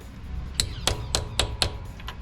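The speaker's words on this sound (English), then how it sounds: "I use a spark plug socket to carefully tap a new one into place" Five sharp metallic taps ring out at an even pace as a spark plug socket drives a new metal seal into a transmission housing on a 2009 Dodge Ram 1500. A softer tap or two follows, with no talking.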